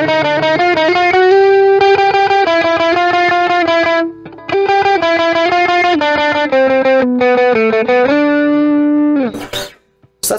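An electric guitar played through a Stax Odrive-1 overdrive pedal rings out loud and distorted in sustained chords, with a short break midway, then cuts off near the end with a brief noisy burst.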